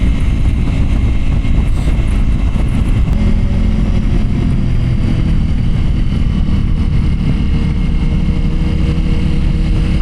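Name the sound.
BMW M1000RR and Ducati Pikes Peak motorcycles accelerating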